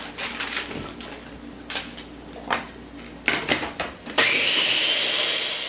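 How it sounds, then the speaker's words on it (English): Strawberry dessert mixture is blended: a few scattered taps and clunks, then a blender motor kicks in with a loud, steady high whirr near the end. "go ahead and give that another blend"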